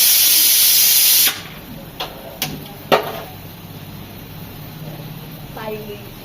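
A pressure cooker lets off a loud, steady hiss of steam that cuts off abruptly after about a second, followed by a few sharp clicks and taps in a quiet kitchen.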